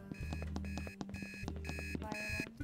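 Repeating electronic alarm in the office-management video game Dale and Dawson, a bright beeping tone pattern pulsing in bursts about every half second over a steady low hum, loud and continuous.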